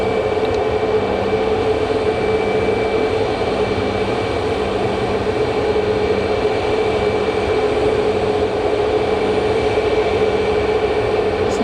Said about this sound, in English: Boeing 737 MAX 8.